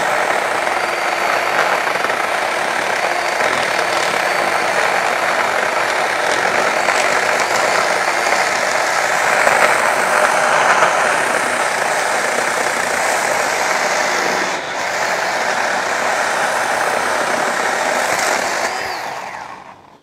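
A Milwaukee Hatchet cordless pruning saw cuts through hard wood with a loud, steady buzzing drone that holds for about twenty seconds with one brief dip, then fades out at the end.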